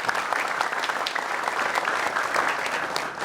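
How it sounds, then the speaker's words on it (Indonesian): Audience applause at a religious pledge gathering, a dense, steady wash of many hands clapping at close range for about three seconds, with no voices standing out. "Tepuk tangan buat Bang Akmal semuanya."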